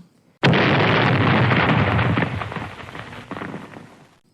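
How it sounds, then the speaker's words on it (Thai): A loud explosion effect for a Thai fantasy audio drama battle scene bursts suddenly after a short silence, roaring for a couple of seconds before rumbling away and fading out. "เสียงระเบิดดังขึ้น"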